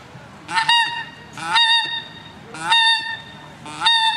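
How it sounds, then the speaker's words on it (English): Four separate honks from geese in flight ring out at roughly even intervals, clear and moderately close, with quiet gaps between them, heard during wildfowling. "Now the geese are up."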